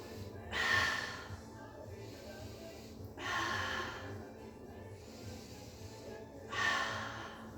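Slow, controlled breaths during a Pilates mat exercise: three airy inhale-exhale swells, spaced a few seconds apart, close and soft over quiet room tone.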